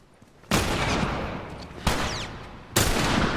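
Gunfire in The Last of Us: three loud, sharp shots spaced roughly a second apart, each followed by a decaying reverberant tail, close and without talk over them.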